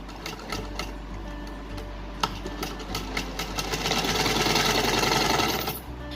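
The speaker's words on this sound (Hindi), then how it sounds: "अब हम इस तरह से टर्न करने के बाद इस पे हम सिलाई लगाएंगे और सीधा कर देंगे।" A sewing machine stitches the corner of a cloth doll dress, its needle running in a fast, even mechanical chatter that speeds up and grows louder toward the end before stopping, close and alone with no talk.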